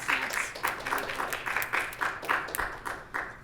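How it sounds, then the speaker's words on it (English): A conference audience at a comic con gives rhythmic, fairly faint clapping and finger snaps in a regular pulse, with a few brief voices. "Can we do some snaps, waves, and a round of applause for those folks?"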